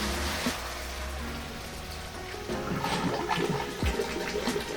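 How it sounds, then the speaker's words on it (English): Air from an aquarium-style air pump bubbles through a tube into a container of compost tea, a steady close churning gurgle of water and bubbles with no talking. "We have air going from the air pump into the tube, down into the water, and forcing the water back up again"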